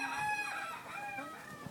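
Dark Brahma chickens, full-size feather-legged birds on a farm, cluck and a rooster crows, heard faintly in the distance as a drawn-out call with scattered clucks beneath it.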